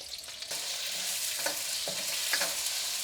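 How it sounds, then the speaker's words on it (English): Peppers scorched in a hot wok for three pepper chicken, a steady bright sizzle of frying with a few soft stirring scrapes, fairly quiet and close. "now I'm gonna scorch the peppers"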